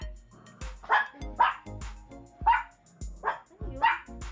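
Several dogs bark in a steady run of about seven loud, close barks with yips and whimpering tones in between, indoors at home.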